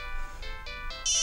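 A mobile phone rings late at night in a quiet room, a short electronic tone rising in steps over about a second with no talk.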